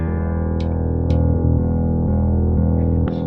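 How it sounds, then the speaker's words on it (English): Sustained electric guitar tone looped on an Echoplex Digital Pro rings as a steady, loud drone with a few brief bright clicks and shifts in pitch, and nobody talks. "let me hold down a longer tone with the guitar, and then I'm going to start a short loop with the front panel"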